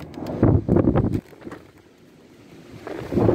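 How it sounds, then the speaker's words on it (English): Storm wind rushes and buffets a microphone outdoors by a house's parking pad, a loud roaring gust at the start easing into a quieter steady blow before surging again at the end, with no talk. "I tell you guys, this wind's howling."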